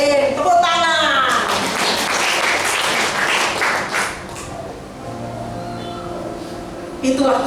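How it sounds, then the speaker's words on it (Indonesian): A church congregation at a worship service marking the Ascension of Jesus bursts into sustained, loud applause for several seconds, then tapers off as a preacher's voice resumes. "Tepuk tangan."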